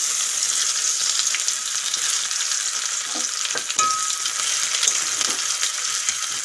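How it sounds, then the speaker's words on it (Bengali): Steady crackling sizzle of chopped onions frying in hot oil with a bay leaf and nigella seeds, with a few scrapes of a spoon stirring, continuous and fairly close. "তেল গরম হয়ে গেছে ফোড়নে দিয়ে দেব একটা তেজপাতা কালো জিরে দিয়ে দেবো পেঁয়াজ কুচি"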